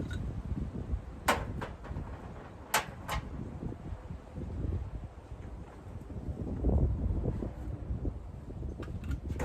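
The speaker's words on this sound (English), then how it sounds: "It's windy out today." Wind buffets the microphone in uneven gusts, rumbling low and loud, with a few sharp knocks scattered throughout.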